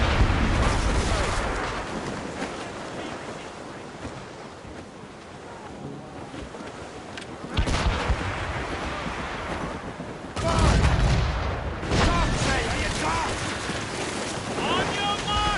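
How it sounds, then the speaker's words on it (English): Ship cannons fire volleys at sea, with dense rumbling bursts and booms that swell and fade amid constant roaring wind and surf. The barrage stays loud and continuous throughout, with heavier blasts near the middle and later. "They can fire many volleys."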